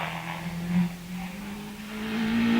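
A 1585cc Caterham 7 climbs a parkland hillclimb course, its engine holding a steady nearby drone that rises in pitch toward the end as it accelerates.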